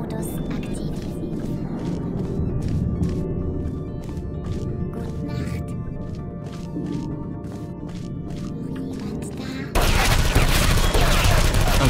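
Rapid bursts of automated turret gunfire in Portal 2, a dense rattling volley of sharp shots repeating for several seconds before a louder, harsher wash of noise takes over near the end.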